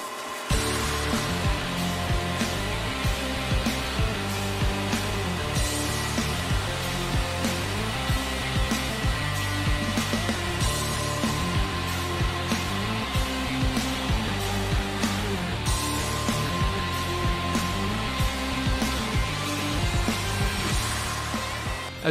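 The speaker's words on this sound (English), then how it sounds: "The cut process utilized the abrasive grains embedded in the Norton fab wheels to remove the color from the welds." Industrial robot buffing fire extinguisher welds with Norton abrasive wheels and rouge compound, a continuous loud whirring grind with a rhythmic pulsing pattern as the wheel passes repeatedly over the metal.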